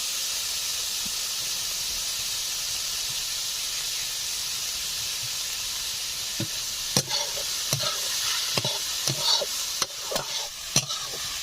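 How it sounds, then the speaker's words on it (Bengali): Banana flower with grated coconut and salt fries in a pan with a steady close sizzle and hiss, and a spoon scrapes and stirs in sharp strokes during the later half. "এই সব কিছু দিয়ে 5 মিনিট মতো নাড়াচাড়া করে নিয়েছি"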